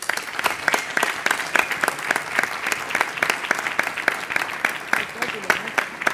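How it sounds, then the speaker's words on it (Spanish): An audience at a book presentation for a political reform volume claps steadily for the presenters, a dense run of applause that stays even in level from start to finish. "Pido nuevamente unas palmas para nuestros presentadores."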